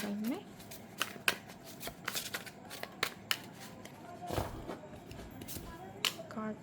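Tarot cards are shuffled close by in repeated quick riffles and soft slaps, with a person talking over the rustling throughout.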